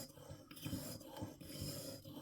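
A curved broadhead being sharpened on a KME broadhead sharpener: faint, steady back-and-forth rasping strokes of stone on steel, rhythmic and close, with no talk.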